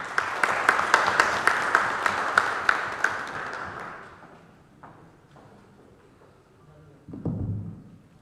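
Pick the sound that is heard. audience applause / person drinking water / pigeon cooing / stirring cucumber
audience applause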